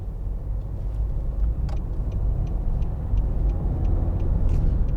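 A 2013 Nissan Note 1.5 dCi Acenta Premium driving on the road, heard from inside the cabin as a steady low engine and road rumble with a faint regular ticking, like an indicator.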